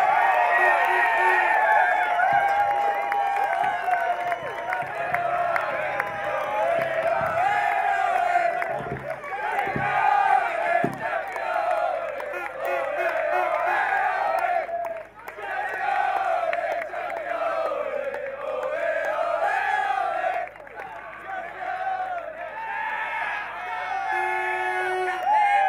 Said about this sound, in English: Ladies and gentlemen, your last hand of applause for the champions.